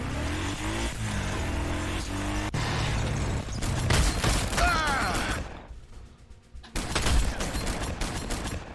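Rapid bursts of in-game gunfire from double reaction fire in Warhammer 40k: Sanctus Reach, crackling volleys mixed with mechanical clatter and engine-like rumble, dense and loud, with a brief lull before another burst.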